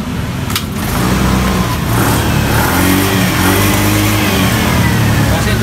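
A Suzuki Skywave scooter engine with a carburettor fault revs up loudly just after starting, a steady close rising drone that holds high without any talk.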